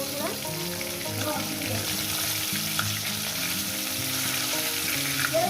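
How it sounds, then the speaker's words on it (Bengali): Rohu fish pieces fry in hot oil, giving a steady, loud sizzle with crackling spatter throughout and occasional faint clinks from stirring. "মাছগুলো আমার ভাজা হয়ে গেছে"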